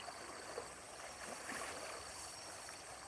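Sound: strongly flowing stream water after rain

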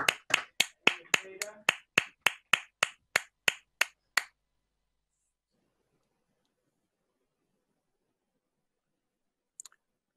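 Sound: applause from graduates in a virtual ceremony

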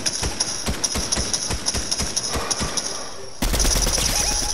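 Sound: gunfire shooting an enemy in a video game

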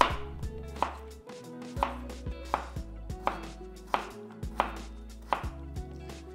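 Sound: knife slicing celtuce stem

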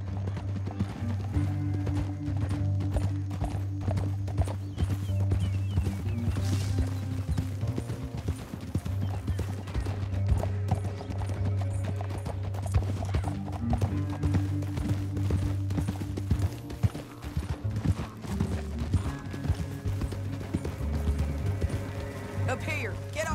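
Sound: horses galloping in Red Dead Redemption 2 video game

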